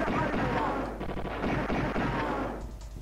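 Rapid, loud gunfire in the Amiga game Persian Gulf Inferno, a close, steady stream of repeated shots lasting nearly the whole moment before easing off.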